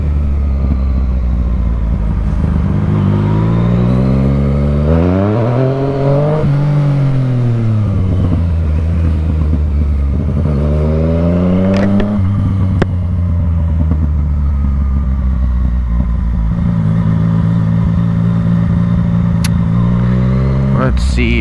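A motorcycle engine revs and surges through throttle blips while the rider pulls a wheelie on a rainy street, pitch rising and falling in several loud sweeps, with a rider's voice heard alongside.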